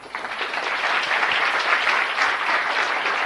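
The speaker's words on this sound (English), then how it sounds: "Another round of applause" Audience applause after a talk at a digital nomad conference, a dense, steady wash of clapping from a large crowd, loud and continuous throughout with no voices on top.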